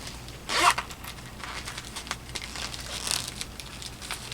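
Zipper on a small sewing-notions pouch is pulled, giving one sharp, close zip followed by light rustling and a second, fainter zip, with no talking.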